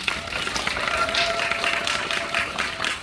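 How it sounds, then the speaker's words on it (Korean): An audience applauds at a film screening talk event: a dense, even wash of many hands clapping that holds steady for about three seconds, moderately loud and with no voices over it. "박수로 한번 부탁드립니다."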